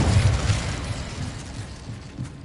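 Incendio fire spell cast in Hogwarts Legacy, a short fiery burst with a low rumbling boom that trails into softer crackle, fairly close and moderately loud.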